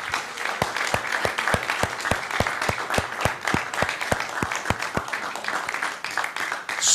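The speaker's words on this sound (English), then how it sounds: "And so let's give God a massive round of applause and Austin, because it's amazing." Church congregation applauding during a morning service, dense sustained clapping from a crowd with a steady rhythmic beat of claps running through it, loud and close, with some voices mixed in.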